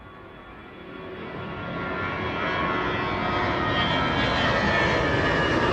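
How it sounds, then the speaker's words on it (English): An airliner departs the runway at East Midlands Airport in the evening. Its engine roar swells steadily from moderate to loud and close, a broad continuous rush with no talk over it. "Catch this one departing out to Palmer this evening."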